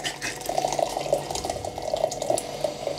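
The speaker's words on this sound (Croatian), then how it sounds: "ako proliješ vruću vodu po plinskoj boci" Hot water poured over a gas cylinder, a steady close splashing trickle with small dripping spatters running the whole time, no voices.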